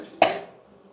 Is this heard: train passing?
no